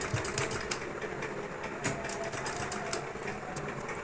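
A sewing machine stitches along the lower edge of a sweetheart neckline with a border, running with a steady rapid mechanical chatter and a few sharper clicks, close and moderately quiet, with no talking.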